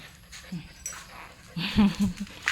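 A dog pants in short breathy bursts and gives a few soft whimpers and yips nearby, with faint outdoor background and a brief sharp noise at the end.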